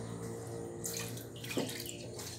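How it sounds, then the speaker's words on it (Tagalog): Water is poured and swished over rice being washed, a soft, steady running splash that briefly grows louder, faint and close, with no speech. "Hugasan mo ulit ng pangalawang hugas sa panghugas."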